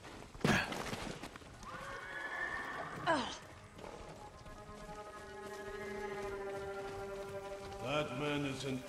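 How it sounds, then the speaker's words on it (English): Horses neighing with clip-clopping hooves in the video game Ghost of Tsushima, several loud whinnies rising over steady hoofbeats and light rain, with speech mixed in. "Follow those horses."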